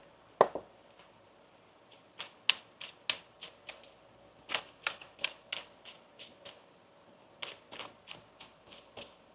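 Tarot cards being shuffled by hand, a series of crisp riffling bursts in short irregular clusters with pauses between, close and fairly quiet, with no talking.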